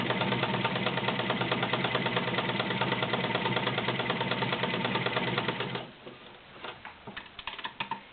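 A Kenmore Model 1247 sewing machine runs a zigzag stitch, a fast, even mechanical chatter at close range that stops abruptly near the end, leaving a few scattered clicks and knocks.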